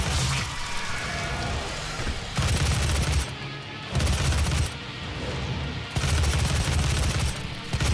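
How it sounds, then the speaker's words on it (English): A heavy machine gun fires in the PC game Doom, loud sustained bursts of rapid gunfire broken by short pauses, repeating several times. "heavy machine gun making life easy"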